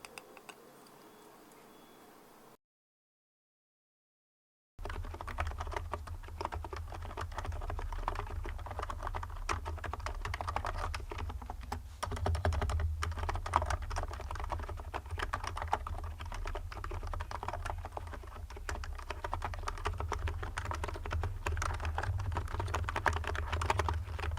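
Purple mechanical keyboards with swapped pastel keycaps, including an Epomaker RT model, are typed on continuously, a dense stream of crisp clacky keystrokes close up after a brief silent gap, with no talk.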